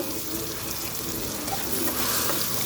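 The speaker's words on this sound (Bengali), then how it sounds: "দিয়ে দিলাম ভাপিয়ে রাখা মানকচুগুলো খুব সুন্দর করে ভেজে নেবো" Steamed taro (mankochu) fries in a pan with turmeric and salt. A dense, even sizzling hiss continues close and steady throughout with faint stirring.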